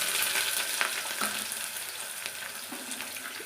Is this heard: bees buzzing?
no